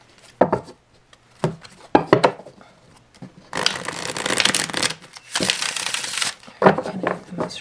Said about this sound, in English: Alright, I'm gonna go ahead and shuffle.